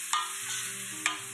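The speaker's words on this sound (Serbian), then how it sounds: "Luku kada dodamo so, ispustit će vodu, taman će se dok ta voda ispari luk prodistati, a onda ćemo ga malo na ulju propršiti." Salted chopped onion fries in oil in a pan, giving a quiet, steady sizzle with two short scraping knocks from stirring, close and without talk.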